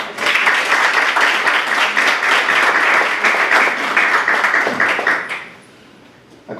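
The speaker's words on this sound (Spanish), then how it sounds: "La recibimos con un fuerte aplauso" Strong, sustained audience applause fills a hall at a women's rights panel in the Tamaulipas state judiciary, steady for about five seconds before fading sharply to quiet near the end.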